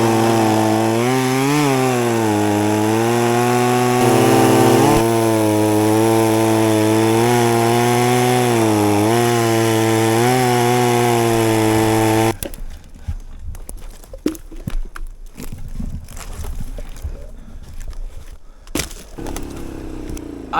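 A chainsaw cuts through a fallen tree lying across a mountain trail, a loud close engine whine rising and falling for about twelve seconds before it cuts off, leaving quieter rustling and handling sounds.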